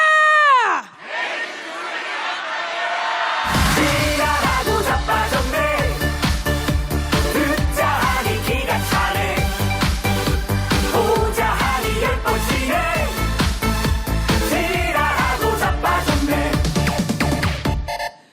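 A live audience shouts a short protest slogan together in loud, rhythmic unison, the chant repeating steadily over music after a single voice calls out a cue.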